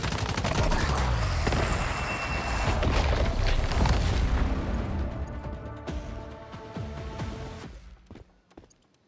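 In the game Once Human, a dense burst of gunfire and booming blasts, including a grenade explosion, hammers away loudly for several seconds, then thins into scattered shots and a fading rumble toward the end.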